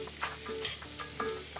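Butter sizzles in a heated pan for Norwegian pancakes, a soft crackling hiss with small bursts of spatter, fairly quiet and with no talking.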